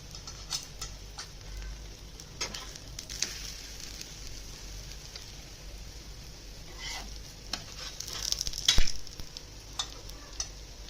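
Colocasia leaves roast on a hot griddle with little oil, a soft sizzle under repeated stirring scrapes and tapping clicks from a spatula, with a louder clatter near the end.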